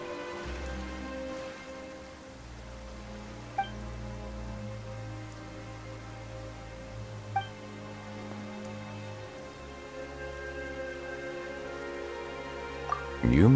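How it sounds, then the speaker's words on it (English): Rain falls in the video game Genshin Impact, a soft steady patter of drops under sustained low musical tones, with a few faint clicks and a brief louder burst at the end. "Why is it raining all of a sudden?"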